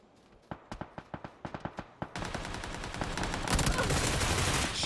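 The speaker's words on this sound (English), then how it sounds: "Shots going out again." Gunfire in PUBG: a rapid string of sharp single shots rings out, then gives way to a continuous roar of dense automatic fire and battle noise that builds louder toward the end.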